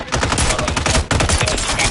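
Rapid automatic gunfire from Call of Duty MW3 rattles in dense, continuous bursts with a brief break, loud and close, likely mixed with faint voices.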